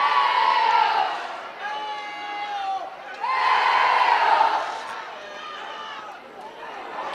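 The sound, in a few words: Hornell home crowd cheering at high school football game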